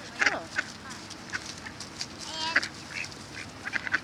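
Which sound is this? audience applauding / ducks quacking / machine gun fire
ducks quacking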